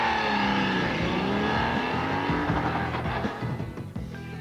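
A racing motorcycle ridden by a TT winner roars past at high revs, a loud sustained engine note sweeping in pitch before fading slightly toward the end.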